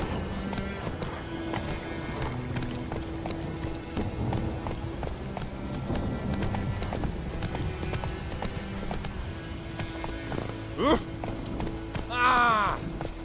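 Hooves of Roach, the horse in The Witcher, clip-clop steadily and close at a run, followed near the end by a couple of brief neighs.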